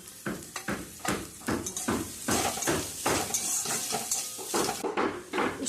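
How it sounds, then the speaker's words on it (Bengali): Chopped onion sautéed in a pan, with repeated spatula strokes scraping and clattering against the metal over a light sizzle, close and fairly loud in an irregular rhythm. "তারপর এর মধ্যে দিয়ে দেব কুচনো পেঁয়াজ কুচি দিয়ে দেওয়ার পর আবার এটাকে হালকা একটু সতে করে নেব।"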